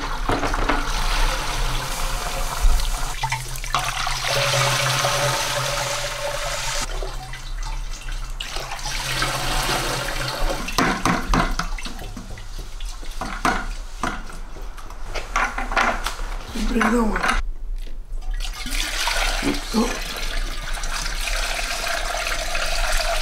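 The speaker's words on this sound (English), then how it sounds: "So we got to first siphon it into these buckets, right?" Homemade wine being siphoned from a vessel into buckets, a steady close liquid trickle and splash running throughout with occasional knocks and handling noises, and no one speaking.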